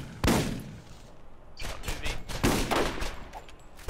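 Pistol fire in the shooter game Borderlands: one sharp crack, then a quick cluster of several shots with thuds and game effects, fairly close and loud.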